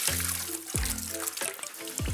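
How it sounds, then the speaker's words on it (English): Shoestring-cut potatoes are swished and rinsed by hand in a bowl of water, giving close, repeated sloshing and splashing strokes in an uneven rhythm, with no talking. "So chuck them in a bowl of water, give them a little massage."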